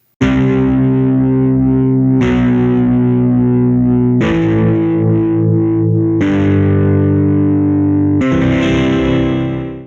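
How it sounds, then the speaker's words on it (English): Heavily distorted electric guitar power chords, five sustained chords each struck about every two seconds, loud and thick, the last one ringing out. "Have a listen to the power chord built on this root note"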